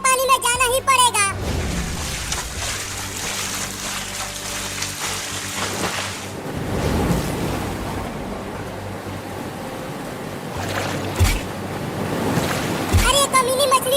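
Heavy cartoon rain and rushing flood water, a steady hiss and wash of water surging around a house, running loud and continuous under voices talking, with a few splashy bursts near the end.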